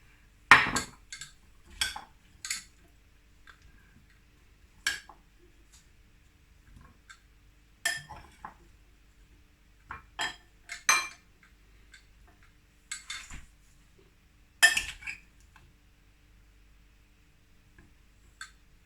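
Utensils clink against dishes as fruit salad with berries is ladled in, sparse sharp taps and knocks scattered across a quiet kitchen, close and fairly faint, with no talking.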